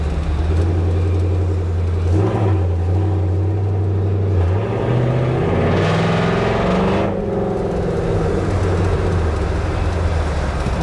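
Bagged Ford F100 truck with a swapped Coyote engine, revving and accelerating up through the gears in a neighborhood, loud and close with rising and falling engine pitch.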